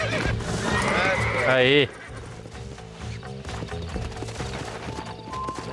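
A horse in the Red Dead Redemption video game whinnies loudly and at length, then hooves clip-clop steadily beneath ongoing game sound, with a voice speaking briefly.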